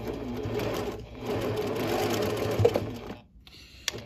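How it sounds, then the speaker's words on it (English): A sewing machine stitches steadily around the edge of a fabric face mask with elastic ear loops, its motor running continuously and close for several seconds before pausing briefly near the end. "I'm gonna start here at this corner and stitch around."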